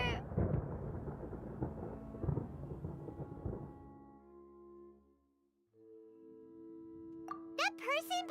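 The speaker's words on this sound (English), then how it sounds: "Paimon hears thunder!" A deep rumble of thunder rolls through the Genshin Impact game soundscape, loud at first and fading into near silence before light game tones return.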